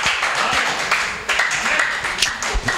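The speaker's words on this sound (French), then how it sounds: "Applaudissons pour le témoignage de la maman." A church congregation applauds after a mother's testimony: dense, steady clapping through the whole stretch, fairly close and loud, with a few sharper claps standing out near the end.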